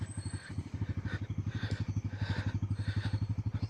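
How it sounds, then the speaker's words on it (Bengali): A motorcycle descends a rough, steep hill road toward Mirinja resort near Lama, its engine close and steady with a rapid, even throbbing putter throughout. "এখানে বাইক নামাচ্ছে"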